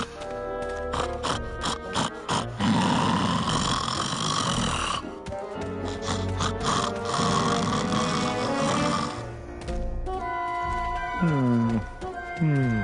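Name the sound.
character snoring in Grim Fandango video game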